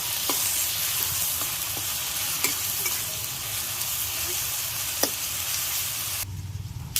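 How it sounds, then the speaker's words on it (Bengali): Spice masala with chopped tomato being fried in a pan for an octopus dish, a loud continuous sizzle with scattered clicks of stirring, thinning out near the end. "এবার মশলাটা একটু ভালো করে কষিয়ে নিতে হবে"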